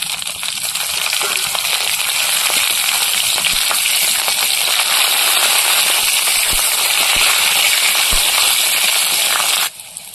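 Black cumin seeds and green chillies frying in mustard oil in a kadai, a loud, dense steady sizzle with scattered crackles and pops, running nearly ten seconds before dropping away abruptly.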